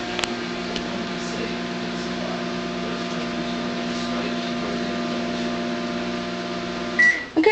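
A microwave oven runs on a short 10-second timer, a steady close hum with a faint tonal drone throughout, ending in a clatter as it stops near the end; no one speaks.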